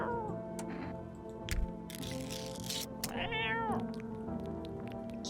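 A cartoonish cat meows several times in the video game No I am Not A Human, its calls rising and falling over soft game music and ambient tones.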